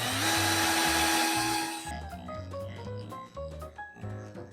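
A power drill drives a wax-dipped screw into wood, a steady high motor whine for about two seconds that then drops into lower, uneven grinding and stuttering bursts as the screw bites, loud and close with no talking.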